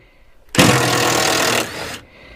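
A 1/2 inch impact wrench loosens bumper bolts on an S10 pickup in a shed. It gives one loud, dense burst of about a second that then winds down briefly, close up.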